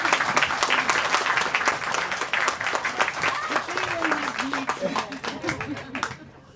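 A crowd applauds at a police K9 annex ribbon-cutting ceremony, with dense, sustained clapping that fades toward the end while voices talk over it.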